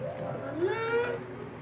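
A cat gives a single drawn-out meow, rising then falling, close and clear over low room noise.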